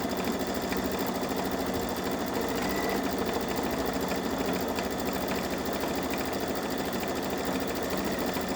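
A Babylock Solaris Vision embroidery machine stitches a Christmas train design, its needle running in a fast, steady mechanical drone that continues without pause, close and fairly loud.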